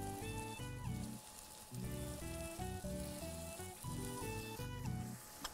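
Tomatoes fry in a pan with a quiet, steady sizzle that runs throughout, mixed with faint tonal music.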